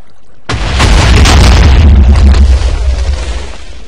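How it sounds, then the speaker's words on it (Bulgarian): A loud, deep explosion bursts suddenly in the Minecraft video game as water is blown up, booming with a rumbling roar that slowly fades over a few seconds. "И сега ще взривим водата."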